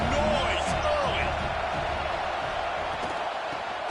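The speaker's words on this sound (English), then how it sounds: "This crowd bringing the energy and noise early." Stadium crowd at a Rice-Eccles Stadium college football game between Rice and BYU, a loud, steady roar of cheering and noise that carries without a break, with a few faint thuds and pops rising through the din.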